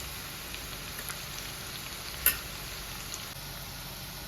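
Onions sizzle in a pan with salt and turmeric, a faint, steady frying hiss with one sharp stir or clink of a utensil midway.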